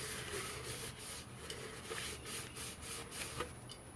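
Steady abrasive rubbing of sandpaper against a cup's coated surface, a continuous close scratchy texture with faint rhythmic strokes and no talking.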